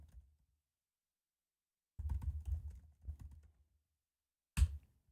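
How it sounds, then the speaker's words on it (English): Someone types on a computer keyboard in short bursts of rapid clicks separated by silent pauses, ending with a single sharp key press, close and fairly quiet. "I am typing it in right now."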